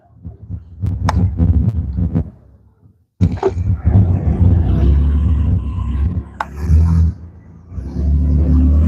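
The rough, throbbing engine of an old car with a worn exhaust rumbles up close and revs unevenly, cutting out briefly before returning with a ragged, loud exhaust drone.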